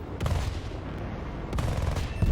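Aircraft guns firing in rapid, continuous bursts during a video game dogfight, dense and loud, with a brief lull before a fresh volley near the end.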